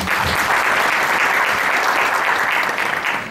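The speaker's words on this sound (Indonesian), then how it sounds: "Tepuk tangan buat Tuhan Yesus." Church congregation applauding during a testimony service, a loud dense sustained roar of many hands clapping together, steady and close throughout.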